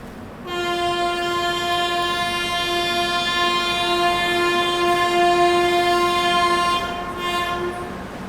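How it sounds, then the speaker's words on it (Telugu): A train horn blares in one long, steady blast lasting several seconds, loud and close, over a low rumble of rolling rail cars as two trains depart in parallel. "సో ఇక్కడ కూడా మీరు చూడొచ్చు 2 ట్రైన్లకి మళ్ళీ ప్యారల్ డిపార్చర్ అయితే వచ్చింది"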